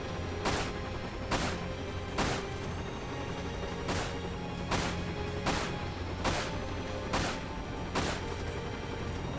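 Fireworks going off outside, a series of sharp bangs spaced roughly a second apart, fairly faint and distant over a steady background hum.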